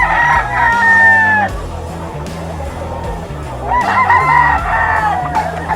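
A 10-month-old gamefowl rooster crows loudly and close by, two drawn-out calls separated by a pause, with faint background noise in between.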